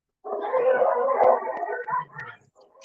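Dogs bark and howl together in a short, loud, wavering chorus that breaks off and returns briefly at the end.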